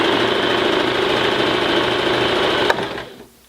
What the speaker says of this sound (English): you control the speed at which the machine is stitching simply by how much pressure you apply to the foot pedal